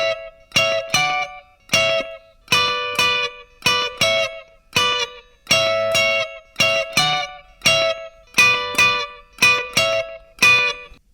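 Slowed-down electric guitar double-stop riff, played in thirds: bright, distorted paired notes struck in a steady, evenly spaced rhythm, close and alone with no talking.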